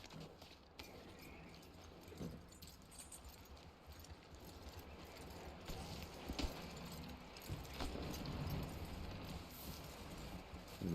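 Horse hooves clip-clopping at a steady walking pace in the video game Red Dead Redemption 2, soft and fairly distant beneath a constant wash of ambient outdoor noise.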